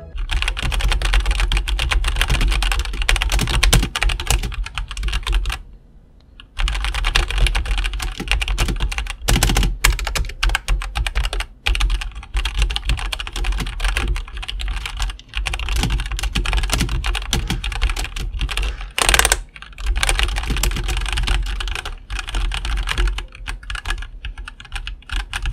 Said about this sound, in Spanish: vamos a escuchar cómo se escuchan estas teclas.